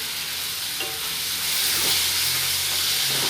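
Steady sizzle and frying hiss from a hot pan as one large tomato goes in for Indian masala pasta, with faint stirring under the continuous broadband crackle and no talk.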